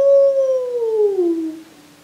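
During a storybook reading, a voice imitates a dog's howl: a single long, loud, mournful note that slides gradually downward and trails off.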